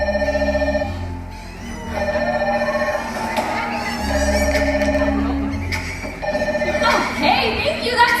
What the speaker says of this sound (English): Oh, that's a SeaWorld rescue phone now.